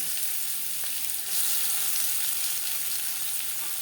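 Steady, close sizzling of chopped onion frying in hot oil in a pan, a constant crackling hiss with no voices.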